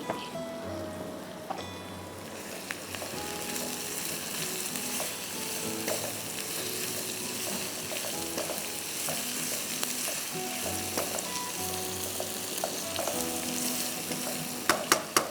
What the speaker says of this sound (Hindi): प्याज को हम फ्राई कर रहे हैं